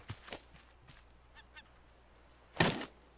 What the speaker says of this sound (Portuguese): O passarinho lá comendo as nossas coisas.